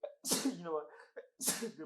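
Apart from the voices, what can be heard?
sneeze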